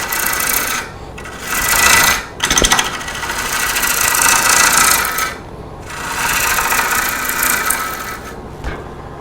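A lathe gouge roughs out a cherry wood bowl, with repeated loud scraping, hissing cuts of a few seconds each, separated by short pauses and a sharp knock, over the low hum of the spinning lathe.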